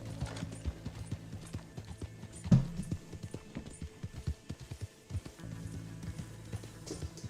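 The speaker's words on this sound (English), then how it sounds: "And back to Shady Belle we go, on Cerberus, who will be our final Chapter 6 horse" Horse hooves clip-clop at a steady riding pace in the Red Dead Redemption 2 video game, with a sharp thump partway through and game ambience underneath.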